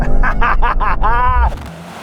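An Audi RS4 in a drag race against a new Mercedes-AMG C63 and a BMW M3, heard as loud in-car engine roar climbing through rapid gear pulls before easing off, near and droning.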